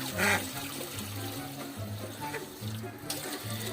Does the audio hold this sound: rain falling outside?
no